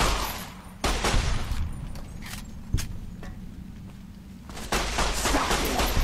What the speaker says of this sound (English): Look at how fast this gun kills.